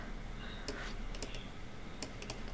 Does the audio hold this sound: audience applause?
no